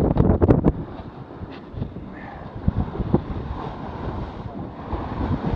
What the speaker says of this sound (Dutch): En het waait ook aardig intussen.